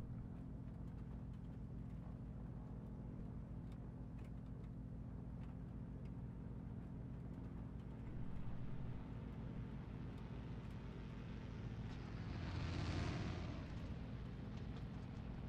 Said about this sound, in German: Oh, bitte nicht auch noch der andere Motor. Nicht jetzt. Hör auf zu stottern.